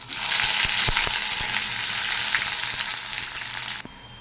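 Sliced onions fry in a hot pan with black cumin and dried red chillies, giving a loud, steady broadband sizzle with a few sharp clicks before the sound drops away near the end.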